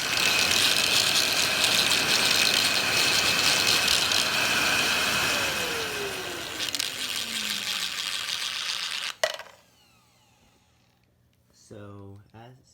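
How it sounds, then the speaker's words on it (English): A loud shop vacuum with a 3D-printed cyclone filter add-on roars steadily with a falling whine as it tries to suck up a screw, then cuts off abruptly; a brief rattle follows before quiet, with a voice near the end. "test out how good of a shop vac it is by trying to suck up a screw"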